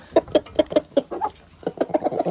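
Farm hens clucking as they are fed bread, a close flurry of short, choppy clucks and cackles in quick succession from several birds, with no talking.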